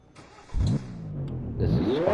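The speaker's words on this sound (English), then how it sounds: "This should not have a fucking diesel engine." A diesel car engine in a Roblox game cranks and catches, then revs up in a rising whine over about two seconds, loud and close with no talking.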